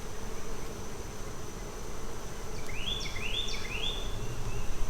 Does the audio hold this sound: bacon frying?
no